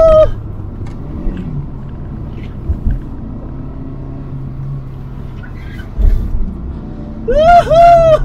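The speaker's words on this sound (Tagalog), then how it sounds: "This car's already pretty fast." A Hyundai Getz on a race track gives a steady, loud engine drone and rumble from inside the cabin, with a few bumps and surges and brief chirping sounds near the end.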